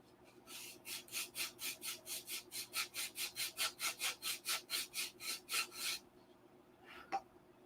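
Sandpaper works the stabilizer of a 1/2A Cobra model airplane in about twenty even back-and-forth strokes, close and rhythmic, then stops, followed by one small knock.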